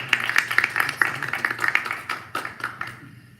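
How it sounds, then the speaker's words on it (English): Applause for the staff at an Asheville city council retreat: a small group clapping close by in a brisk patter of claps that thins out and stops near the end. "applause for the staff"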